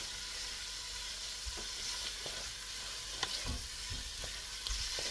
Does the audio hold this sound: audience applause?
no